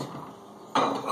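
A plate and dishes are handled while making a sandwich, starting with faint kitchen background, then a sudden close clatter of crockery and cutlery that carries on to the end.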